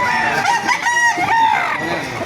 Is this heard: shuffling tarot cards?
no